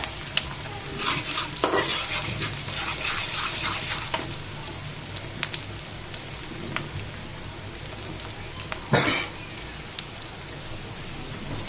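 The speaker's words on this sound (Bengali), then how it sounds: "পেঁয়াজ আর রসুনগুলোকে আমি হালকা করে ভেজে নেব" Onion and garlic are being stir-fried in a pan, giving a steady close sizzle with scraping strokes of a utensil and a few louder clanks, and no voices.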